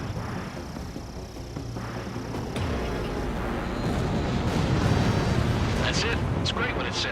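Explosions and heavy rumbling blasts from an enemy bomber being shot down in the combat flight game Ace Combat 7, loud and continuous with bursts building toward the end, under game radio chatter.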